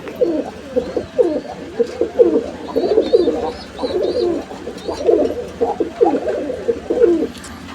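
Several pigeons on a breeding farm coo in repeated throaty bursts, close and fairly loud, with faint chirps in the background.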